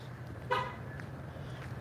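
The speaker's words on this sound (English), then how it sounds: "that was the car locking because I walked away from it automatically" A car chirps its horn once as it locks automatically, a short, clear toot at moderate distance over a low, steady outdoor hum.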